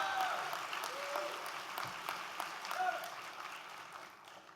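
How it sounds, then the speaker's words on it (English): An audience at a political summit panel applauds volunteers, a moderate, fairly even patter of many hands clapping in a large hall, lasting several seconds with some faint murmuring underneath. "we clap for volunteers"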